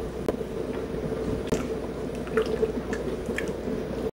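A peanut sauce mixture thinned with added water is stirred in a pot, giving soft, wet squishing and dripping sounds in an irregular rhythm, close and fairly clear with no talking.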